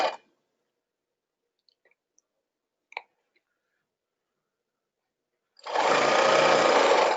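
A sewing machine stitches tutu net in a short, loud burst, preceded by a brief whir, a few faint clicks and near silence.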